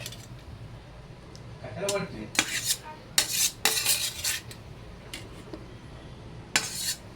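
A spoon clinks and scrapes against a pot while stirring peas and fried paneer through gravy, in intermittent bursts over a quiet kitchen background, with faint talk.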